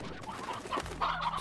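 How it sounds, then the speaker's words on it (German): Chickens cluck softly in the video game Slime Rancher, a few short, faint squawks and clucks close by with no talking. "Da sind wieder ein paar Hühner."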